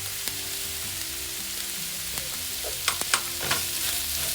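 Onion, ginger, green chili and curry leaves sautéing in a pan with salt for a Kerala black chickpea curry, giving a steady close sizzle with scattered spoon scrapes and stirring clatter, no talking.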